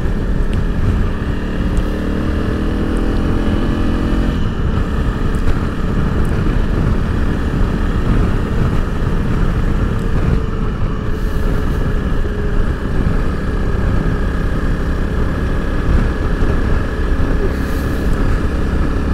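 A Honda CRF300L Rally motorcycle being ridden on a local ride, its engine a loud, continuous drone with shifting pitch and steady road and wind rumble throughout.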